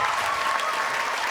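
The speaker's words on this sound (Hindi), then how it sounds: "भरपूर तालियां इनके लिए" Dense, even applause from a theatre audience for the musicians, including a tabla player, after a live stage production, heard alone without talk.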